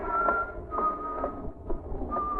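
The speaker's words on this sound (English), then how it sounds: "That whistle." A single, clear whistled tone rises in a 1940s radio drama episode of The Shadow, held in short sustained phrases over a low background rumble.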